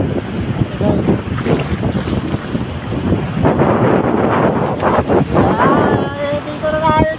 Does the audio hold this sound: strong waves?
yes